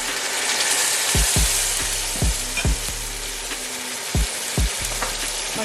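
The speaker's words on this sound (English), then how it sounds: "I'm going to be adding the tomatoes" Tomatoes dropped into a hot frying pan for a kofta and spinach curry hiss and sizzle loudly and steadily, with a series of sharp clinks and scrapes of stirring cutting through at irregular intervals.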